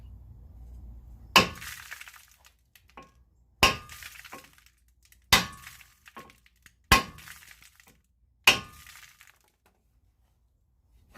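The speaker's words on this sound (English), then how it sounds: "I'm just gonna use my hammer here and try to hit between the studs." Five hard metallic hammer blows land on a rusted brake rotor at a steady pace, each one ringing briefly with a scattered rattling afterward.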